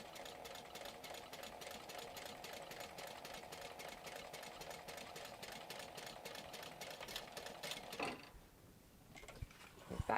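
A sewing machine stitches a pocket onto a lining panel in a steady, close, rapid mechanical whir for about eight seconds, then stops, leaving a brief quiet stretch with a few small handling sounds.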